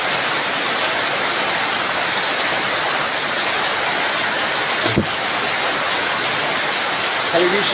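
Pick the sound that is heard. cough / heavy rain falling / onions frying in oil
heavy rain falling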